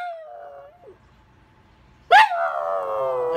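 A dog howls in tonal, wavering yips and sustained cries that imitate the Doctor Who theme tune, starting with a soft rising note, breaking off, then returning with a sudden loud yelp sliding into a long steady howl close by.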